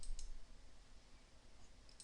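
Computer mouse clicks while scrolling through a dental CBCT scan, a few faint sharp clicks near the start and end over quiet room hiss, no talking.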